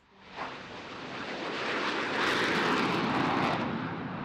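An F-15 jet flies during a supersonic test flight, a broad rushing roar that rises from quiet over the first seconds and holds loud before easing slightly, with no voices.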